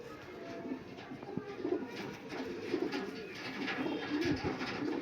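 Mirabwala Nasal pigeons cooing repeatedly in a loft, soft throaty coos recurring at a steady rhythm with faint background noise.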